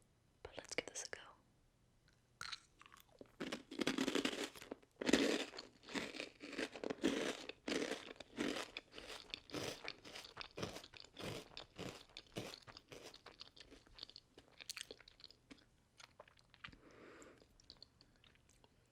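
Chip-like candy crisps crunched and chewed up close, with bursts of crisp bites and chewing spread irregularly among soft whispering.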